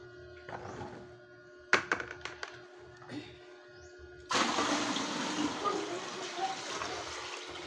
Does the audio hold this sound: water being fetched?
yes